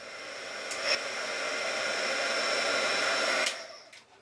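A heat tool blows steadily as it sets a coat of paint on an entry door, a continuous airy whoosh that builds gently, holds for about three seconds, then cuts off with a few light clicks.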